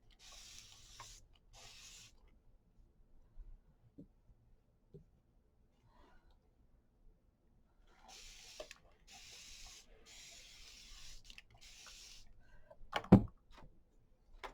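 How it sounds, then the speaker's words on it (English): Distress Oxide spray is misted onto paper scraps in short bursts, two quick hisses, then a pause, then several more in a row, close and soft, followed by a sharp tap. "Now then, let me spray."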